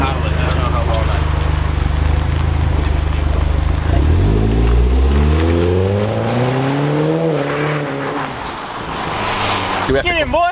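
A Hyundai Genesis with a newly installed exhaust idles loudly up close, then revs hard and accelerates, the engine note climbing through gears before tapering off, with people talking over it.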